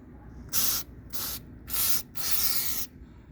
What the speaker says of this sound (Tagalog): Ito, sprayan ko rin yan.